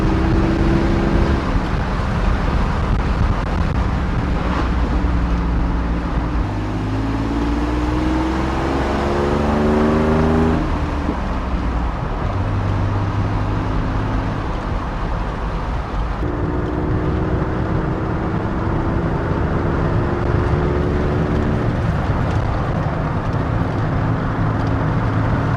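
A 2006 GM single-cab pickup with a manual transmission drives along, its engine humming steadily and rising in pitch through the gears in repeated pulls, with road and wind noise constant throughout and no talking.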